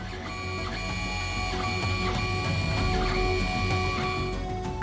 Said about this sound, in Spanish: Desde una impresora a la que se le pone chocolate para que haga apetitosas impresiones como estas